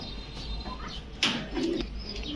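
Racer, beauty and shorting pigeons at a pigeon sale, soft low cooing with a brief burst of flapping wings midway, close by and under faint background noise.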